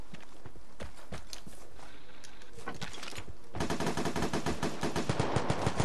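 Rapid automatic gunfire from a new weapon in the video game Vigor, a dense burst that turns into a steady fast rhythmic volley, loud and up close with no talk over it.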